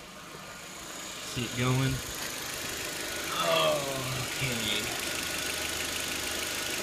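A 2001 VW Jetta 1.8T engine fitted with an HHO hydrogen dry cell idles in a steady, low mechanical hum, with a person talking briefly over it.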